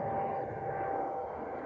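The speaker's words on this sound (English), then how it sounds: "Is it an airplane?" A fixed-wing airplane drones steadily overhead during an outdoor walk in a Tokyo park, a continuous, moderately loud engine hum with no talk over it.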